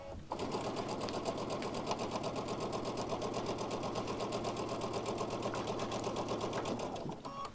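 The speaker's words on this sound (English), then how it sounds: "So it will stitch in place, and then I'll sew and come to the end." A sewing machine stitches fabric in one continuous run, a rapid even mechanical whir that starts abruptly and stops near the end, close and alone.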